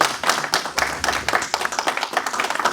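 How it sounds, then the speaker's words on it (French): A small press-conference audience claps for an artist, an uneven, fairly close patter of individual hand claps with distinct sharp hits throughout, no talk over it. "est-ce qu'on peut applaudir?"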